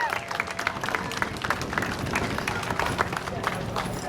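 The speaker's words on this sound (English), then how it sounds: "Big round of applause." An outdoor crowd at a Walk to End Alzheimer's event at Fiesta Texas claps steadily after the national anthem, dense overlapping applause with a murmur of voices mixed in.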